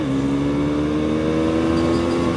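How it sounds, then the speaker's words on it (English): A 2021 KTM 390 Duke single-cylinder motorcycle engine running at a steady, loud drone that climbs slowly in pitch, heard close and alone with no voices. "this one-cylinder engine is not disappointing"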